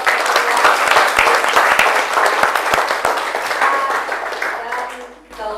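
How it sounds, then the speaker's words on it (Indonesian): Junior high school students applaud in a classroom after a group discussion, a loud burst of sharp, close hand claps that gradually thins out and fades near the end. "Beri tepuk tangan dan tepuk"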